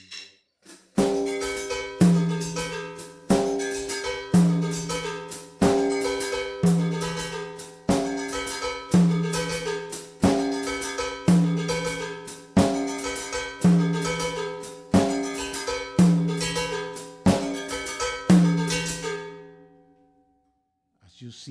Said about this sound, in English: putting one of the notes on the high tom and one of the notes on the snare